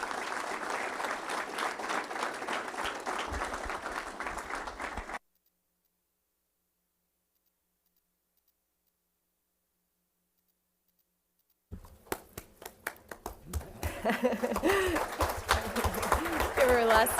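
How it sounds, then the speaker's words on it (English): Audience applause at a school board meeting, a dense patter of clapping for several seconds that cuts to silence, then resumes and builds loud again. "Give her a last round of applause"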